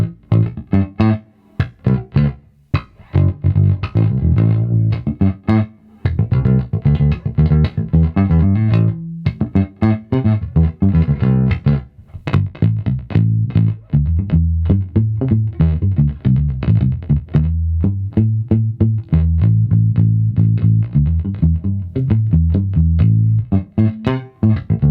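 Fender American Ultra Precision Bass played with the tone knob turned fully up, a continuous run of loud, plucked notes with sharp attacks and short gaps, close and alone throughout.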